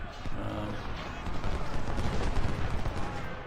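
Musket volleys and cannon fire in the Civil War strategy game Ultimate General at the Battle of Shiloh, a dense continuous crackle of gunfire with heavy booming blasts underneath, steady and loud throughout.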